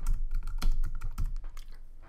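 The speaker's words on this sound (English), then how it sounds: "So I'm going to go ahead and type in corner pin tool" Rapid clicking keystrokes on a computer keyboard, close and fairly loud, in a brief continuous burst of typing without speech.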